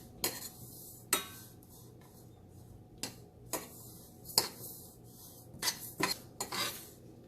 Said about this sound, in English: the dry coconut slices, and the sesame seeds. To dry roast this without any oil.